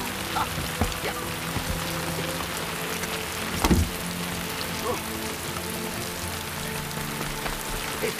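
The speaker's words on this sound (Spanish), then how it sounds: "Esta lluvia va a parar en unas 2 horas." Steady rain falls and patters on surfaces nearby, with a continuous hiss and scattered drips.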